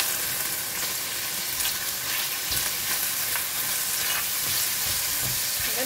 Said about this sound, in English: I'm going to fry the fish ball first until it's cooked.